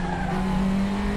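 A NSU TTS racing car in RaceRoom Racing with its front tyre locking under braking at Norisring, a loud, close, sustained engine drone with a tyre scrub for about a second.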